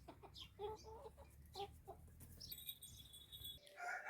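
Chickens cluck in short bursts close by, with a few higher squawks and rustling in between.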